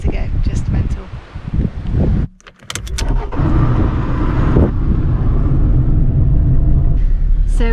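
A car drives along roads in Kefalonia, Greece, after a hurricane, with a steady road rumble and wind noise throughout, a brief drop in the rumble midway, and voices talking over it.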